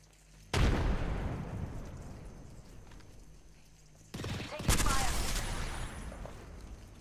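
Two heavy bursts of weapon fire in Apex Legends: a sharp blast with a long fading tail, then a second louder, denser burst a few seconds later, each ringing out over quiet game ambience.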